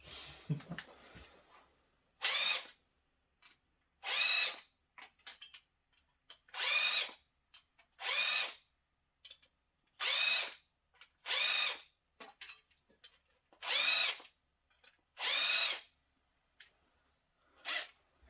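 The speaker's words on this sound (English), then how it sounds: "See if I can kind of remount it a little with my screwdriver" A power screwdriver working on a part inside an old rack-mounted gaming PC case, with about ten short, loud whirring bursts in a stop-start rhythm separated by near silence, close up and without talk.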